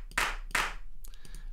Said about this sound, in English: we have some hand claps here in a dry and wet